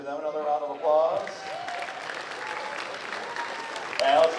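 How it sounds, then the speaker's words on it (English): Audience at a high school spring concert applauding sophomore letter recipients, a brief burst of clapping that swells after an announcer's voice and fades as he speaks again. "Give them another round of applause."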